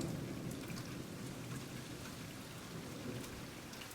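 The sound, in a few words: spring rain falling around an orchid shade tent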